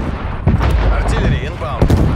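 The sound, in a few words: artillery fire in Call of Duty: Black Ops Cold War video game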